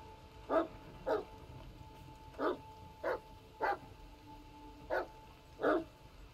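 Dog barking in the video game The Medium, seven separate barks spaced about half a second to a second apart, moderately near over a quiet background with a faint steady tone.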